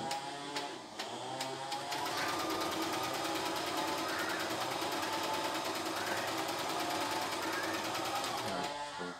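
A CNY E960 portable embroidery machine stitches in a fast, steady mechanical whir with rapid needle clatter, running loud and close for the whole stretch.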